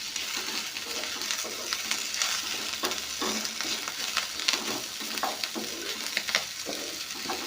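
Okra fries in a pan with curry leaves, giving a continuous bright sizzle close up, broken by scattered scraping stirs.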